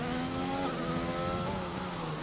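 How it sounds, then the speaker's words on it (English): Honda-powered Formula 1 car engine in the racing game F1 2020 at the Hungary circuit, a loud, steady high-pitched whine that shifts pitch slightly as it revs, heard alone and continuous. "Chow in the chat saying Honda car sounds so good"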